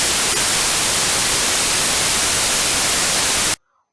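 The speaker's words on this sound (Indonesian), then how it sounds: "Contohnya adalah white noise seperti ini." Loud, dense white-noise hiss like old analog TV static fills the space steadily for three and a half seconds, then stops abruptly into silence.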